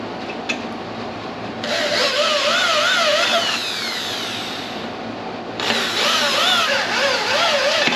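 A power drill runs in two sustained bursts, whirring and grinding as it bores new mounting holes for a motorized trike build, loud and close with a short lull between.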